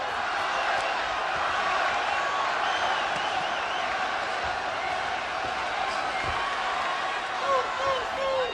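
Boxing arena crowd cheering during a bout, a dense continuous roar that swells steadily under a commentator's voice.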